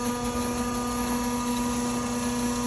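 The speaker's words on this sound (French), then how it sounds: "On active ensuite le pistolet, comme n'importe quel tank à gaz normal." Propane nozzle refuelling a bus, heard as a loud, steady mechanical drone with a constant hum and hiss that runs unchanged throughout, no voices.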